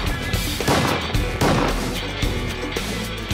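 Shotguns fire at ducks during a hunt in the Mississippi Delta, a quick volley of several loud blasts in the first second and a half followed by scattered echoing shots, outdoors with faint background noise.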